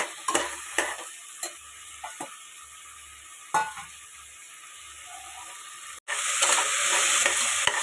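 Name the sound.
cooking tomatoes and green peas in a pan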